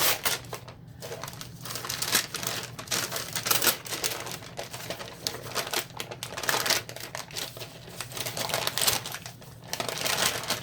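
Freezer paper liner is peeled and crinkled away from a loaf of sandalwood soap, giving continuous close-up rustling, crackling and tearing noises in irregular bursts with no talk.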